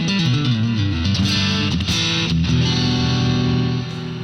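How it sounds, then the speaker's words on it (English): Electric guitar played through two overdrive pedals, with a bright, crunchy overdriven tone, plays chords and riffs, loud and sustained, then rings out. "how can we have 2 overdrive pedals, yet it's sounding so damn clean?"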